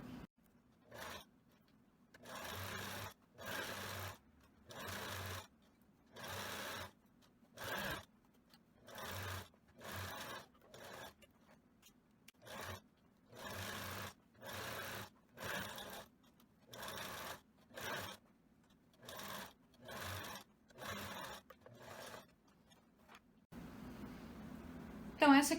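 Sewing machine stitching rows across wide elastic, running in repeated short bursts of a few seconds with brief pauses between, fairly close and steady, with a voice at the end.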